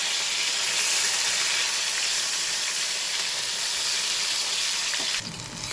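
Onions dropped into hot oil with green chilies and whole black pepper for green chili chicken, giving a loud, steady sizzle that holds throughout and shifts briefly near the end, with no talking.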